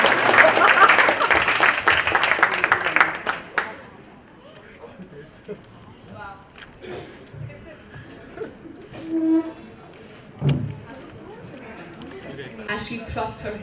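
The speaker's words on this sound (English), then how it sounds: "Let's all clap for Isha" An audience claps at a book launch, a dense burst of applause that fades after a few seconds. Scattered chatter and voices carry on beneath it.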